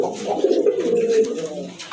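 A large male pigeon held in the hands gives a close, loud, drawn-out coo that rises and trails off over about two seconds.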